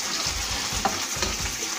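Cod and onion fry in a pan with a close, dense sizzle and a few faint clicks of stirring.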